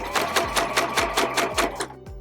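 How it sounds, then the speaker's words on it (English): A sewing machine stitches a straight row through fabric and batting at a 5mm stitch length, giving a steady, fast, close rhythmic clatter of about four needle strokes per second with no talking. "I'm going to just stitch straight down with a 5mm stitch length"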